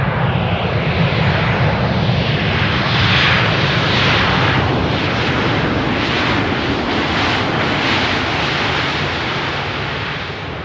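A Boeing 747 arrives on runway 18R at Amsterdam Schiphol, its jet engines making a loud, sustained roar that swells gradually and then eases slightly toward the end.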